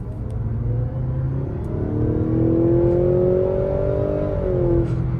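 A Mazda CX-90 PHEV plug-in hybrid with a 2.5 engine accelerates, its steady rumble rising into a climbing engine whine that holds for several seconds before easing off, heard from inside the cabin with no talking.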